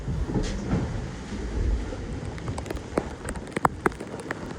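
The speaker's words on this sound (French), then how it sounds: "et là on est toujours sous la pluie, mais il n'y a plus de vent quoi" Rain patters steadily on a surface aboard a sailboat at sea in light wind, with a rushing wash of water and a few sharper drips and knocks near the end.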